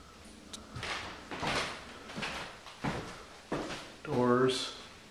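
Doors in a house under renovation being opened and closed, several soft thuds and scrapes spaced a second apart, with a person talking briefly near the end.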